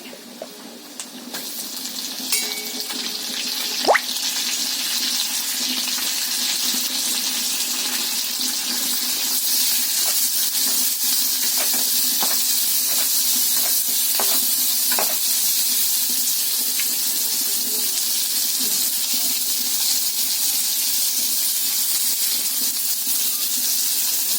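Cardamom, cinnamon, fennel seeds and onion fry in hot oil with a loud, steady hiss that swells after a few clinks and scrapes at the start and then continues unbroken, with occasional faint taps of a spoon.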